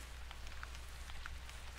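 Rain in the hunting video game The Hunter, a faint steady patter of drops spread evenly with a few soft isolated taps, distant and quiet with no voices.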